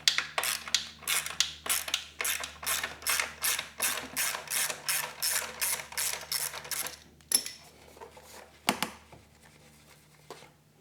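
A ratchet wrench clicks in steady rapid bursts, about sixteen strokes, while loosening the exhaust clamp nut on a Kawasaki ZX-4R, then slows to a couple of isolated clicks near the end; close and clear, no talking.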